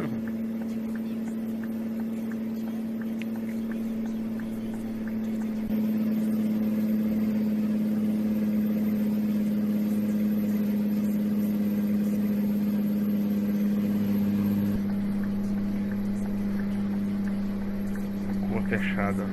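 A Scania 113H 360 hp truck engine in Euro Truck Simulator 2 on a Chile route, droning steadily with a low humming tone that swells slightly partway through and continues unbroken to the end.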